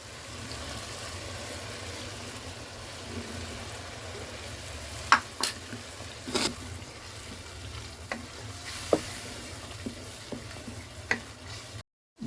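Yogurt roasts and is stirred into chicken masala in a pan, a steady low sizzle with occasional spoon scrapes and clinks, close and fairly quiet with no talking.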